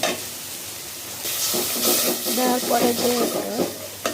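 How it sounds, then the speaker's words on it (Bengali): Ground spices, including turmeric, coriander and cumin powder, stirred while frying in a pan, a soft sizzle with scraping stir strokes under someone speaking. "এখন এটা আমি একটু নাড়াচাড়া দেব।"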